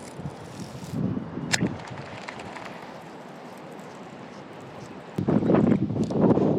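Strong wind on open water during a fishing trip buffets the microphone with rough roaring gusts, swelling around the first and second seconds and surging loudest in the last stretch, with faint rattling in between.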